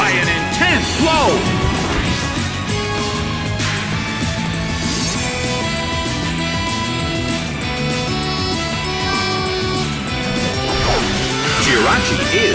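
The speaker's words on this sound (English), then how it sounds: "Rock Slide tumbles down, taken down by an intense blow." A Rock Slide attack in Pokémon Battle Revolution lands as loud, repeated crashing rock smashes over battle music, with a commentator's voice faintly in the mix.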